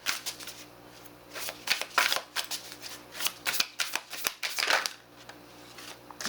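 Tarot cards are shuffled in repeated quick riffling bursts, close and crisp, with short pauses between rounds and no talking.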